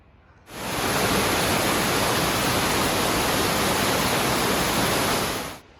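A waterfall roars in a steady, dense wash of sound, loud and unbroken, beside a trail crossing a marshy area on the Pacific Crest Trail between Sonora Pass and Lee Vining.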